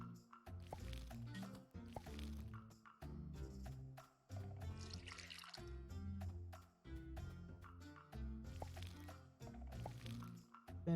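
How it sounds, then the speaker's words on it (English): Repeated squishy, dripping splashes of watering crops in the farming game Sun Haven, in steady bursts over game music and background. "Finish watering everything."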